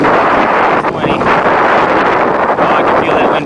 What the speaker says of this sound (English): I can feel that wind pushing on my back